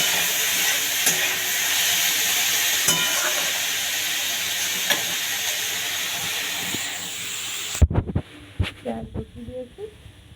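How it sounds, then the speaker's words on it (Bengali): Onions frying in a pan, a loud steady sizzle and hiss with occasional stirring clicks that cuts off abruptly after about eight seconds, leaving a few clattering knocks and a brief voice. "পেঁয়াজটা ভাজা হবে একটু"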